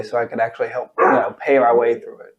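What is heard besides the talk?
dog barking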